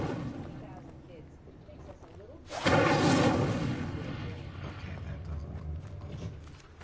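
An Incendio fire spell bursts in Hogwarts Legacy with a sudden loud whooshing blast that swells and slowly fades into a rumbling tail, preceded by quieter game ambience and some creaking.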